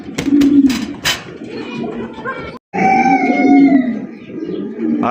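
Pigeons coo at a busy pigeon market, with low, throaty calls rising and falling close by amid crowd noise and the sound of people talking.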